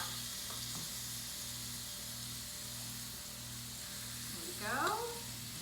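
Food lightly browning in a pan gives off a steady, gentle sizzle and hiss close by, with a faint electrical hum beneath and a brief scraping sweep of a utensil near the end.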